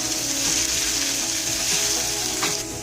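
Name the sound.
chicken frying with garlic and ginger paste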